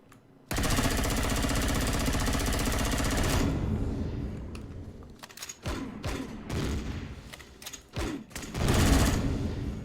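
Drones in the space game Empyrion open fire with a dense, rapid burst of automatic shots lasting several seconds, then sporadic sharper shots and impacts follow.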